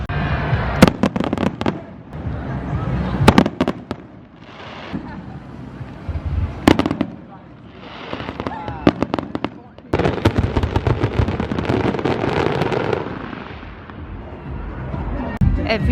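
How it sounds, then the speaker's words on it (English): Rapid bursts of fireworks crackle and bang in dense volleys, some booming sharply, with crowd noise and voices mixed underneath. "Just waiting for the fireworks."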